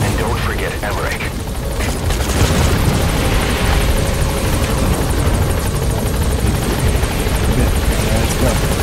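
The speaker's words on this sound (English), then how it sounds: "Alright, the chopper's touching down." A helicopter in Metal Gear Solid V touches down with a loud, continuous rotor roar and dense whirring noise filling the scene throughout, and a character's voice speaks over it.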